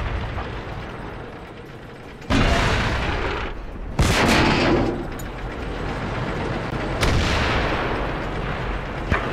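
Heavy tank cannon blasts in World of Tanks, three loud booming shots each followed by a long rumbling decay over a steady low engine drone.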